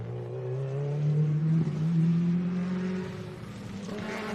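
A rally car on a Queensland gravel stage near Gympie comes off the throttle and then floors it, the engine note rising in a loud, close, sustained howl that dips briefly at a gear change before climbing again.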